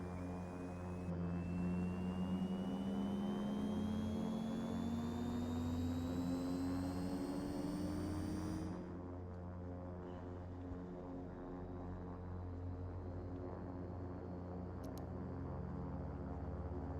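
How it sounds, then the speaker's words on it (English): A Super King Air 350 turboprop engine at low idle in the X-Plane 11 flight simulator, a steady loud drone with a rising whine in the first half, then an even hum. "Use left gen to start right engine here."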